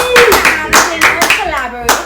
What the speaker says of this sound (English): I find my fans are really clapping tonight